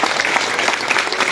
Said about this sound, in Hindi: तो एक बार खुद के लिए ताली बजाओ पहले